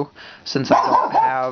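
A dog barks and yips indoors, a short sharp outburst overlapping someone speaking close by, loud and near.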